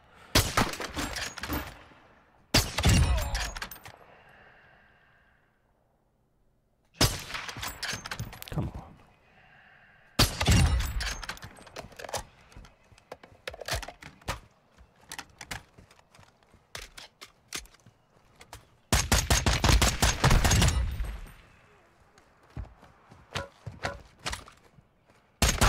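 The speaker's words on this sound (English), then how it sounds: "Did someone shoot in my direction here?" Several bursts of gunfire from a Call of Duty DMZ match crack out in separate volleys, loud sharp reports with quiet gaps between them.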